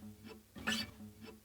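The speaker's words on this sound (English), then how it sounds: "it's just the sound of someone sliding their fingers up and down a fretboard" Fingers slide up and down a guitar fretboard, giving soft, quiet string squeaks and rasps in a few short strokes, with a brighter swipe in the middle and no other sound.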